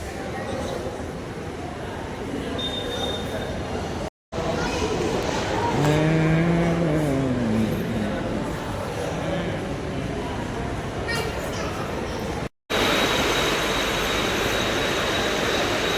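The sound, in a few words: train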